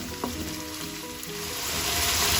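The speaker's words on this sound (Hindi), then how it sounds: "इसको थोड़ा सा पकाएंगे ताकि ये अपना कलर चेंज कर ले।" Minced meat (qeema) cooks in a pan with a close, continuous sizzle and an occasional stirring scrape, and the sizzle gets a little louder toward the end.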